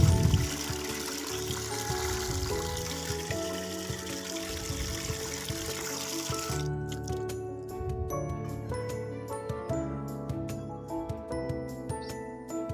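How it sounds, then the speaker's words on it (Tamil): Rice-washing water is poured and stirred into a bucket, giving a steady close trickling and sloshing that later breaks into intermittent splashes and drips. "அந்த தண்ணியை எடுத்து இப்போ நான் இந்த வாளியோடு மிக்ஸ் பண்ணுறேன்."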